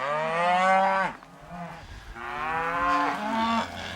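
Weaned calves on a ranch bellow in two long, loud moos, one after another, with a short pause between them and nobody talking.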